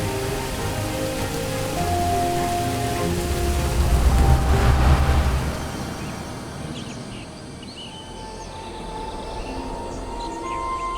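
Steady rain falls in a continuous hiss with a low rumble swelling midway, then eases to a lighter, thinner patter; no voices.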